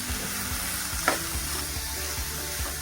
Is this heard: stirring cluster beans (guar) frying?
yes